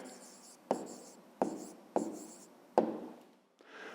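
A pen or pencil writes an answer by hand on paper, four or five short, close scratching strokes in a quick rhythm, with no voices.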